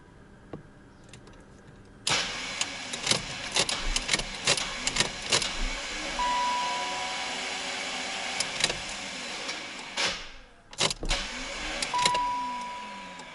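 Starter motor on a BMW whirring and clattering in repeated bursts as the pinion spins without engaging, a near mechanical grinding buzz broken by short pauses and clicks, with no voices.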